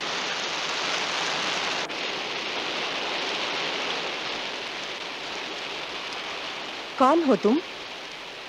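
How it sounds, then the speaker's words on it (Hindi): Steady, loud rain pours down throughout, with a brief pause near the two-second mark and a voice speaking over it near the end. "वो बरसात आ रही थी ना"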